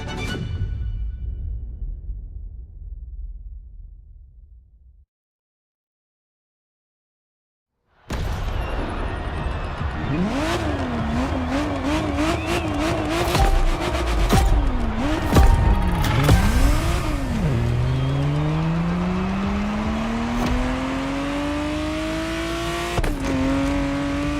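A Ferrari Testarossa drives in the racing game The Crew Motorfest; the engine note fades out, goes silent, then returns loud with rising and falling revs through gear changes.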